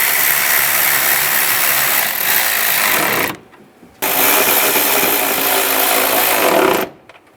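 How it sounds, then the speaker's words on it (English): Bolts being tightened on the AC condenser of a 2011-2018 Ram 1500: a loud, dense whirring of a power tool running in two bursts of about three seconds each, separated by a short pause. "Get the bolts started on both sides. Tighten those down."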